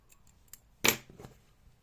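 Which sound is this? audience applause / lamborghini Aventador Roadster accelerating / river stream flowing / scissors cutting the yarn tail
scissors cutting the yarn tail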